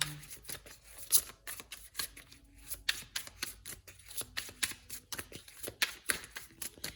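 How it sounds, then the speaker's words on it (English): Tarot cards are shuffled in quick, soft riffling bursts, close and quiet, with brief pauses between handfuls. "I'd really like to shuffle until something comes out on its own"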